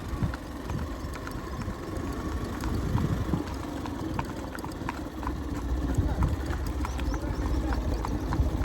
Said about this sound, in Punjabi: ਪ੍ਰਗਟ ਵੀ ਟਾਪੋ ਟਾਪ ਹੈ